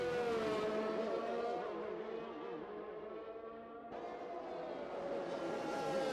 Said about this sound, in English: Just revving out his car, getting a bit of temperature into the engine